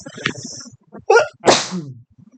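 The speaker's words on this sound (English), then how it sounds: "I gotta sneeze." A single sharp sneeze bursts out after a brief pause, close and loud, with a short rasping tail and faint murmuring before it.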